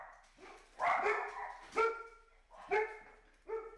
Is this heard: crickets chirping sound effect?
no